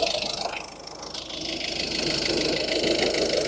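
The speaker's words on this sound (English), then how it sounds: "The AC compressor clutch is still running, which is good." A Ford Transit Connect engine running with the AC compressor clutch engaged, a close, steady mechanical hum and whir under the bonnet with a faint rattle, no speech.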